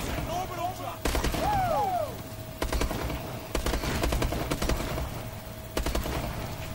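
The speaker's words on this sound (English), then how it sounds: "it's a rocket turret, guys." Rocket turret fire during a Call of Duty Advanced Warfare Exo Zombies round, loud repeated bursts of shots and blasts over game noise, with several short whistling tones in between.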